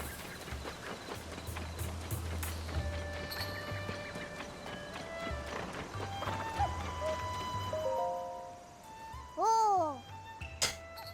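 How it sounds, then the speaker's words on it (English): Galloping horse hooves in Legend of Zelda: Tears of the Kingdom, a steady rapid clip-clop rhythm under game music tones, ending with a short whinny-like sweep near the end. "Horse."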